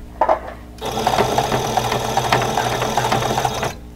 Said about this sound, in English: Go forward, back stitch again, come forward close to the edge